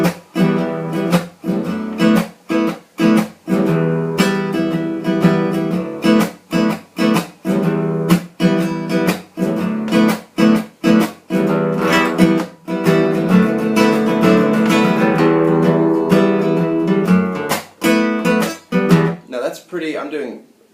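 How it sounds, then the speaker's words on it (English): An acoustic guitar is strummed using a mix of right-hand strumming techniques, rhythmic chord strokes with regular accented hits and brief choked gaps, played steadily and close for about twenty seconds before a final ringing chord. "I'm doing quite a few different strumming, right-hand strumming techniques there"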